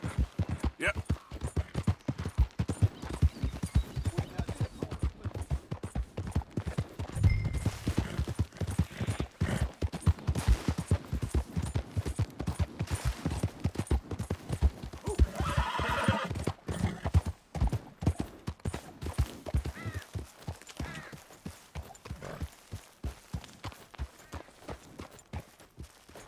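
Horse hooves clip-clop steadily in Red Dead Redemption 2, with neighing and whinnies throughout, a dense rhythmic gallop under game dialogue and voices.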